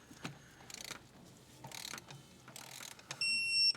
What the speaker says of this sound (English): I've got my torque wrench set to 25 Newton meters.